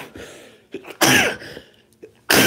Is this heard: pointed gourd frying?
no